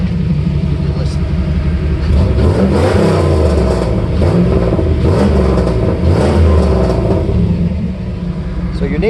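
A 1994 Camaro Z28 engine with Flowmaster mufflers revs repeatedly with a deep, throaty rumble, rising and falling in bursts close by.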